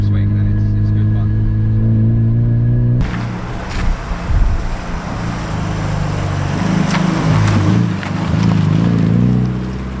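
Heavily modified widebody Mazda MX5 with a loud engine, revving steadily while driving, its drone close and continuous after a sudden jump in level and rising and falling throughout.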